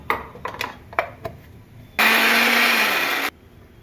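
An electric blender grinds green chilies and ginger into paste in one loud, steady burst of just over a second, preceded by a few light knocks and taps.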